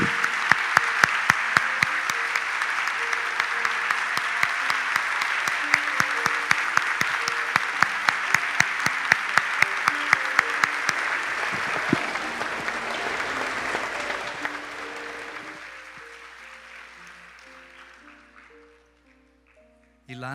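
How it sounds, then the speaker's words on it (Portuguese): A church congregation breaks into sustained, loud applause that holds steady, then slowly thins and fades to near silence, with a few claps lingering at the end over soft background music. "dê uma salva de palmas agora"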